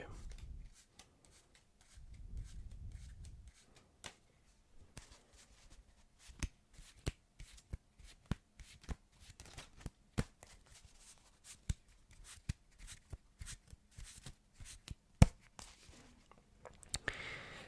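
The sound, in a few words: Hindu shuffle of playing cards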